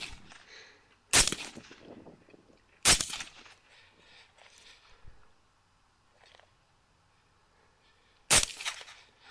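Three sharp, loud rifle shots ring out at hogs in an open field, spaced several seconds apart, each followed by a brief echoing tail over faint background quiet.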